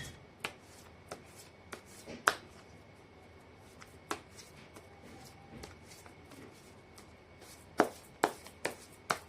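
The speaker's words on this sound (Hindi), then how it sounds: "मैं कर लेती हूँ कार्ड की शफलिंग" Tarot cards shuffled by hand in a quiet room, a string of soft, crisp riffling snaps spaced irregularly, with a few louder bursts near the end.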